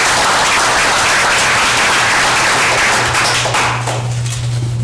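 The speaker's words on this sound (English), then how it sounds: "Let's give a round of applause for the fire department." Council meeting audience giving a round of applause for the fire department, a loud, dense, sustained clapping from a roomful of people that thins slightly toward the end, with a steady low hum beneath.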